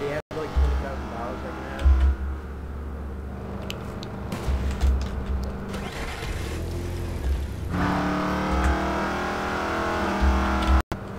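A car in Garry's Mod drives and revs during a role-play session, its engine a steady low drone with throttle surges, heard up close with voices at times over it.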